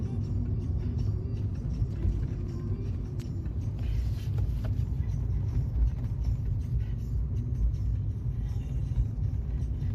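Steady road traffic on a mountain ghat road, a continuous low rumble of passing cars and vehicles, close and loud throughout with no clear breaks.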